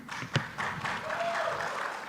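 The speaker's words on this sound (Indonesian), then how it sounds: "Ditahan tepuk tangan Anda Bapak Ibu." An audience at a public debate for mayoral candidates in Bitung claps in a brief, moderate burst, with a single sharper clap near the start and a voice briefly heard.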